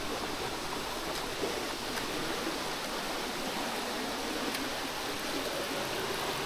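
Strong river water rushing steadily and loudly, a dense continuous roar close by with no break across the whole stretch and no voices over it.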